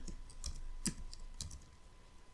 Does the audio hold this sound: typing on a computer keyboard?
yes